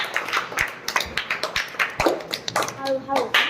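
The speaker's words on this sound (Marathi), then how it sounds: "क्षमासाठी जोरात टाळ्या" Loud clapping for a child comes as a run of sharp, close hand claps in uneven bursts, mixed with people talking.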